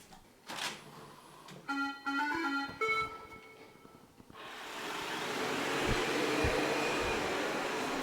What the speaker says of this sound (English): Robot vacuum, engage.